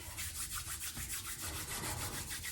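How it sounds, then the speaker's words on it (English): Hands rubbed briskly together to warm them make a soft, close, steady swishing friction sound in a quick back-and-forth rhythm, quiet and alone. "You can rub them, warm them more."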